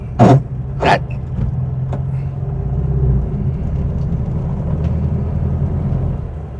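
A 1966 VW Type 3 fitted with a new single-port dual 34 carburetor setup, driving in second gear: a steady, close low engine drone and road rumble, with a couple of sharp clunks near the start.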